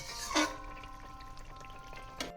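Light Bengali fish curry of parshe fish with potato and eggplant in a pan, a spatula scraping and stirring with a soft sizzle, a couple of brief clinks standing out over a quiet simmer.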